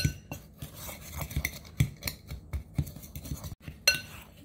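A utensil stirs sweet potato cornbread batter in a bowl, giving repeated scraping clinks and knocks against the bowl in an uneven rhythm, close and fairly quiet with no talking.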